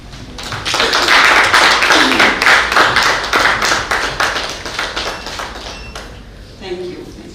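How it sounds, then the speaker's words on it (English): Audience applause at a World Mental Health Day event, loud, dense clapping from a room full of people that swells and then gradually thins out over several seconds, with a brief voice near the end. "have a round of applause"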